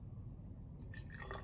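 Bromothymol blue solution is poured into a measuring cylinder in a lab, a faint trickling fill that rises slightly in pitch near the end, over low background hum.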